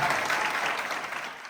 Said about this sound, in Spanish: Eso es aplauso, eso es aplauso.